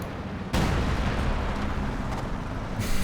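Howitzer barrage explosions in a World War II real-time strategy game, a dense, continuous roar of overlapping blasts that begins abruptly after a brief lull and stays loud throughout, with no talking.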